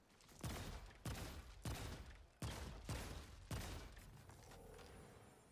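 Weapon shots fired in the video game Remnant 2, six sharp loud blasts at a steady rhythm about a second apart, each with a decaying tail, followed by a quieter lingering hum.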